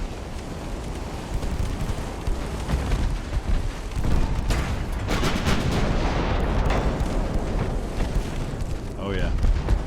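Warship secondary guns firing in the naval battle game Ultimate Admiral: Dreadnoughts, a steady stream of booming shots and rumbling blasts layered over sea and wind noise, loud and dense, with someone talking through it.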